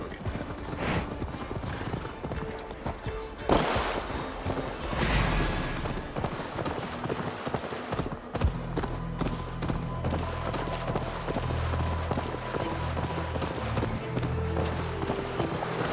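A horse gallops under its rider in the Viking-era game Assassin's Creed Valhalla, with rapid rhythmic hoofbeats and occasional whinnies running throughout beneath swelling music and brief bursts of dialogue.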